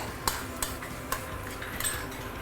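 Ingredients for claypot chicken rice are stir-fried in a pan, with a handful of sharp metal utensil clinks and scrapes over a low background hiss, heard alone.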